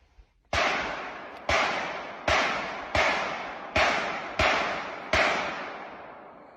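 Seven sharp gunshots ring out in the woods at a steady pace about a second apart, each crack followed by a long echoing decay through open surroundings.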